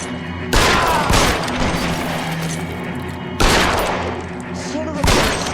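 Gunfire in the crime video game L.A. Noire: two bursts of rapid shots ring out with echoing tails, each followed by lingering rumble, fairly loud and close in the game's soundscape.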